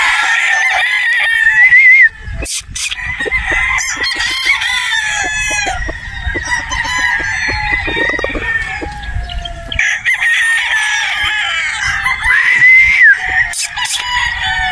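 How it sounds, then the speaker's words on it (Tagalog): A broodstag rooster crows loudly several times nearby, with clucking and other fowl noises filling the gaps between crows. "Pero gwapong manok to."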